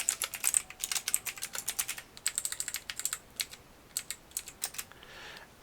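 Keys clatter on a computer keyboard in quick irregular bursts with brief pauses, close and fairly quiet, no voices, while stats are entered for a Dungeons and Dragons 3rd Edition character.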